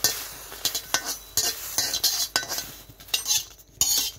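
Dried red chillies and garlic dry-roasting together in a pan for a sweet pumpkin mash, with a utensil scraping and stirring in irregular bursts and light clinks against the metal, close and fairly soft with no talk.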